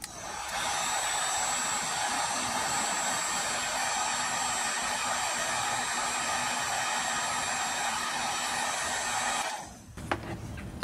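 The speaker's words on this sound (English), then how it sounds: "And I'm putting my heat gun on high." A heat gun on its high setting, shrinking a solder sleeve on LED trailer light wiring, blows a loud, continuous whooshing roar up close for about nine seconds, then cuts off, followed by a couple of handling clicks.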